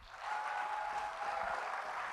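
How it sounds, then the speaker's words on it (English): An audience at a Black History Month judicial celebration claps steadily for about two seconds, a dense, even wash of applause filling a large hall. "Can we have a round of applause for our Black judges?"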